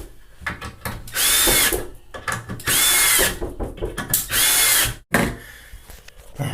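A Milwaukee M12 hex screwdriver, model 2401-20, drives screws into wood: three long, loud whirring bursts with short pauses between them, then a brief final burst, close up and with no talking.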